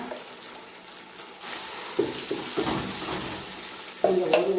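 Garlic and ground chutney paste fry in hot oil while being stirred, giving a steady close sizzle with louder bursts as the paste hits the pan and is turned.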